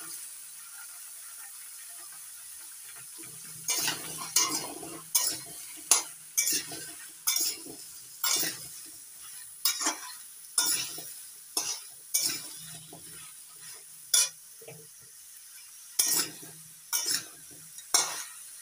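Ash gourd curry with salt and slit green chilies being stirred in a pan: a rhythmic series of spoon scrapes and clinks, roughly one every second, over a faint low sizzle.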